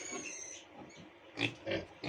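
Vietnamese piglets grunt and squeal close by in short bursts, with a louder cluster of grunts near the end and no talking.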